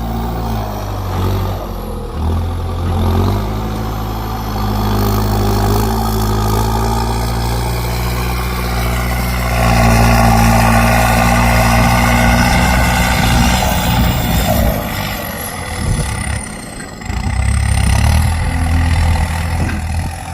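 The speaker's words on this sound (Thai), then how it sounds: "เสียงลั่นสนั่นทุ่งเลย" A Kubota M8808 tractor engine roars loudly and steadily close by in a field, a deep continuous rumble that swells in the middle and dips briefly near the end.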